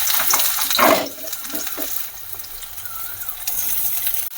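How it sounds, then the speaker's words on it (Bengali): Onions frying in hot oil in a home kitchen pan, a continuous sizzling hiss with a few stirring clatters and scrapes early on, steady and close throughout. "ফার্স্টে পেঁয়াজগুলো একটু ভাজি"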